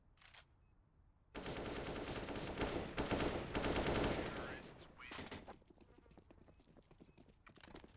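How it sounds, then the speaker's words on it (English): Gunfire from a Counter-Strike: Global Offensive match, dense bursts of rapid shots lasting several seconds, then sparser scattered shots, fairly faint overall. "Colorado should take this round unless RC continues to shoot his teammate."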